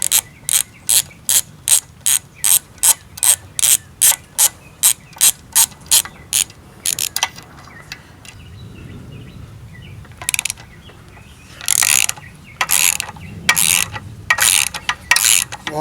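A ratchet wrench clicks in fast, even bursts on the lower unit bolts of a 1999 Mercury 200 EFI outboard, first a long regular run, then a pause and a few louder, choppier strokes up close.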